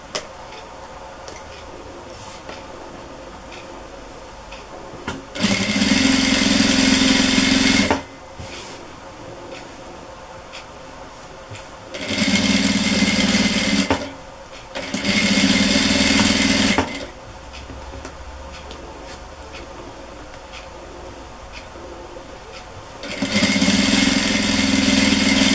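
Sewing machine stitching a seam along the edge of a cloth dish towel, loud steady whirring bursts of several seconds each, four runs separated by quiet pauses with small handling ticks.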